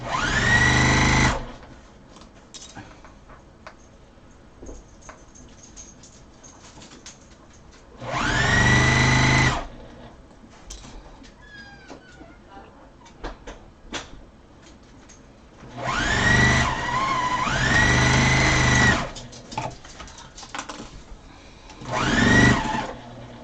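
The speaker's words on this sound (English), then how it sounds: "now I'm going to go right down this again one more time, just to add a double row of stitching" A sewing machine runs a double row of stitching along a pillow in four loud, sustained bursts of whirring motor hum, separated by quieter pauses with light handling noise.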